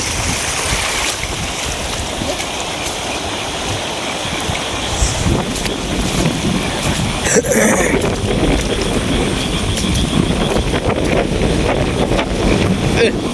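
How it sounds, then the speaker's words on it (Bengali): Strong wind during a flood storm batters the microphone in rough, gusting roars, with a sharp burst around the middle and churning water underneath; muffled voices surface at times. "বাতাস যে পরিমাণ"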